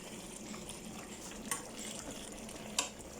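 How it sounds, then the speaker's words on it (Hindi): Tomato masala for chicken biryani frying in a pot over high heat, a soft continuous sizzle with two sharp clinks of a utensil against the pot. "हम इसको अच्छी तरह भून लेंगे।"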